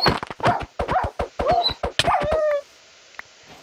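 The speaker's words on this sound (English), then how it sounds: "I heard a puppy." A puppy or wolf in a video game whimpers and yips in a rapid series of high, whining cries lasting a couple of seconds, fairly close and loud, before fading into near silence.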